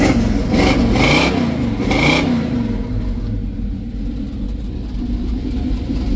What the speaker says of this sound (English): now when you rev it up in the parking lot, it sounds awesome